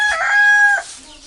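A hen or rooster gives a short, loud, strained call at close range, trailing off quickly, with faint background noise.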